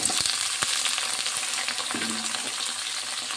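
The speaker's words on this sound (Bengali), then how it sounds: "আলু আর পেঁয়াজটা ভালো করে ভেজে নেব।" Potatoes and onion fry in mustard oil in a wok, a steady close crackling sizzle with occasional light stirring ticks throughout.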